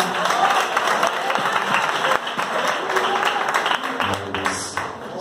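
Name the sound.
church congregation applauding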